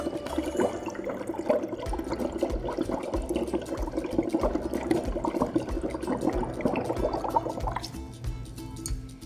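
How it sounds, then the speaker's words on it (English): Bubbles blown through a straw into a glass of water tinted with bromothymol blue, a continuous gurgling, burbling rush for about eight seconds, close and fairly loud, then tapering off. "Next, I'll take a straw, plop it in, and start blowing into the water."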